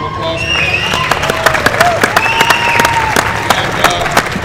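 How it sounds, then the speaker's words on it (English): A crowd claps and cheers for Rich Piana at an armwrestling event, dense applause with sharp individual claps and whistles sustained throughout. "give a round of applause for him"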